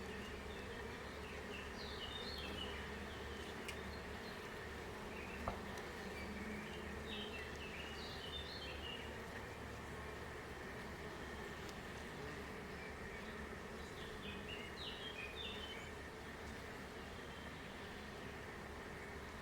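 A honey bee swarm at its hive, settled into a well-developed colony, gives off a steady, dense buzzing hum that runs unbroken throughout, with no voices.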